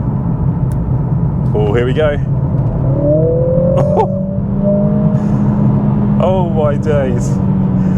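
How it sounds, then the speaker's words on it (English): Mercedes CLA45 S (420 hp) engine in Sport Plus mode, a steady low rumble that builds as the car pulls hard, with excited voices talking over it from inside the cabin. "As soon as I flipped it in Sport Plus, the car just went wild."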